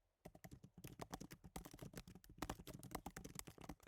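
Rapid typing on a computer keyboard during a speed-practice session, a dense, steady stream of close, crisp key clicks with no voices.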